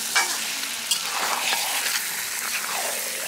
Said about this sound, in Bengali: এখন রান্না হবে বিরাট বড় মোরগের আলু দিয়ে ঝোল